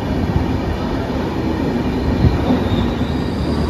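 The Howrah–Radhikapur Kulik Express rolls through Bolpur Shantiniketan station as a loud, close, continuous rumble of wheels on rail, with faint squeal and clatter.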